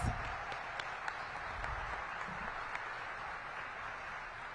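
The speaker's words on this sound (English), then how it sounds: "Let's give the chief a big round of applause." Scattered applause for the police chief rises at a citywide public safety meeting, a faint, distant patter of hands with a few sharper individual claps standing out against the room.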